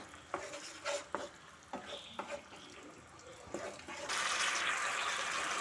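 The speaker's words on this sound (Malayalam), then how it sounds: "അതിനുശേഷം നല്ലപോലെ ഇളക്കി കൊടുക്കുക." A spoon scrapes and stirs salted Gobi Manchurian sauce in a pan with a few soft, intermittent strokes, followed by a quiet sizzling wash near the end.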